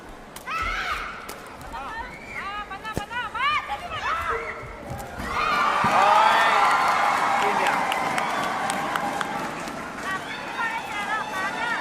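Spectators at an ISTAF Sepaktakraw World Cup 2025 women's doubles match between India and Iran cheer and roar, the crowd noise swelling to a sustained loud din while a commentator talks.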